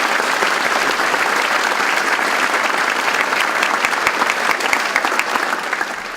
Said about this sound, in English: Let's give her some applause for making it through the crowd.